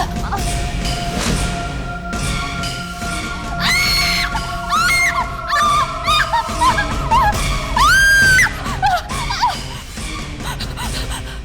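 A woman screams in a Hindi horror drama, sharp rising cries over eerie sustained music, close and loud, several bursts between about 4 and 9 seconds.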